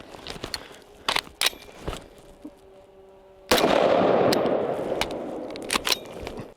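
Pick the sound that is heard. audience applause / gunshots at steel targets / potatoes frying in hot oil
gunshots at steel targets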